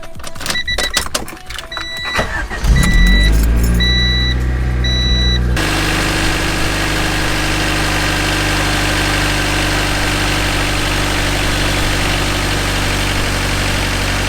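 A car engine cranks with a whirring starter, catches and roars to life, then settles into a steady, loud idle rumble.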